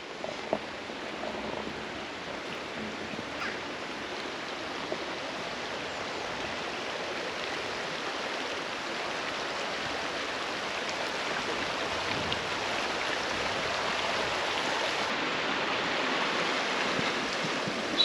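A freshwater stream flowing beside a riverside walk gives a steady, broadband rush of water, even and continuous, with no voices.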